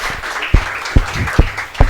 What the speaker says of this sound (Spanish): Demos un fuerte aplauso al Rey de Reyes